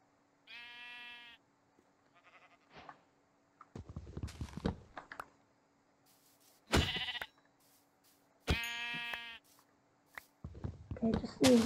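Sheep in the Minecraft video game bleat several times in short, distinct calls, interspersed with footsteps and thuds while people talk in between.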